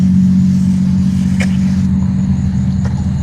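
Steady low car engine rumble running continuously and fairly loud, with a faint brief high tone over it, no talk.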